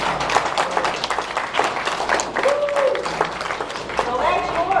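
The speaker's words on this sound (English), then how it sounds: "Give yourself a round of applause." Round of applause from members at a REIA monthly meeting in Toledo, dense clapping filling the room for the whole stretch with scattered voices and brief whoops mixed in.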